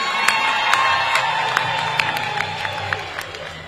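A graduation crowd at Kampala University breaks into applause and cheering, loud dense clapping mixed with shouts and whoops, sharp individual claps popping out over a sustained roar.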